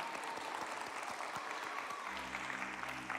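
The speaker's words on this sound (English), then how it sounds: "we still give him a round of applause" A small audience at a children's Saturday storytelling event gives a round of applause, steady scattered clapping that fades near the end as a low hum rises beneath it, quiet and somewhat distant.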